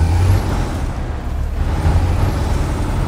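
A Mercedes-Benz 12-wheel truck in the SnowRunner video game lets out an air-brake hiss over a steady, close, low engine rumble that runs without a break.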